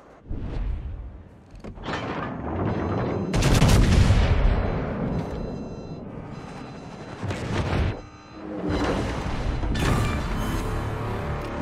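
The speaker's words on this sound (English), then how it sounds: "Concentrate fire on the target." Battleship main guns boom in a naval combat game set on the USS Missouri, heavy blasts rolling out in repeated bursts with sharp onsets and long rumbling tails, loud and close, no voices.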